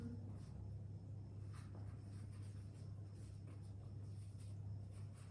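A pen scratches faintly across paper while a math problem is worked out by hand, soft continuous strokes over a low steady hum, with no voices.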